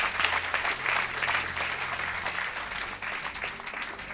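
Worshippers at a church service applaud the Lord in a dense, sustained wash of clapping that holds fairly even throughout.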